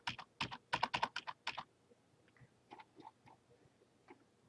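Fingers type on a computer keyboard, a quick burst of loud, crisp key clicks for about a second and a half, then softer, sparser taps trailing off, close to the microphone with no talking.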